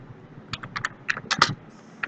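Someone types an nslookup command on a computer keyboard, with irregular clusters of crisp key clicks, close and fairly quiet, separated by short pauses.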